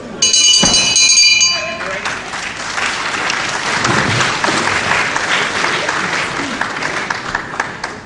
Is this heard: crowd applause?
yes